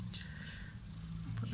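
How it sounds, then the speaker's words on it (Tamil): A black cat purrs close by with a soft, continuous low rumble, with faint background sounds and no clear talking. "கருப்பு கலர் பூனை."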